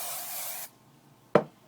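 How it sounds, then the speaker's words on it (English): Hairspray misted onto styled bangs to hold them in place, with a long steady hiss lasting under a second, then a pause and a short sharp click or tap close by. "I'm going to go ahead and just spray it so it stays in place"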